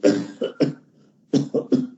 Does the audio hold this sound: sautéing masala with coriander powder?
no